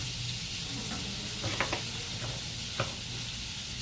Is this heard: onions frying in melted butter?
yes